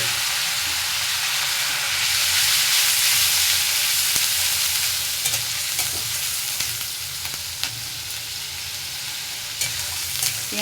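Onion paste sizzling and frying in hot oil with a small bay leaf, a steady close crackle with occasional stirring scrapes, no talk.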